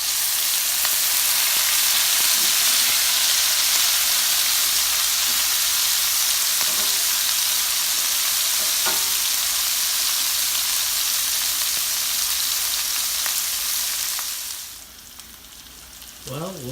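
Onions sizzle steadily in a hot pan after pork chops were taken out, with the onions marinated with the pork. The hiss holds loud and even for about fourteen seconds, then drops away to near quiet with a few faint clinks.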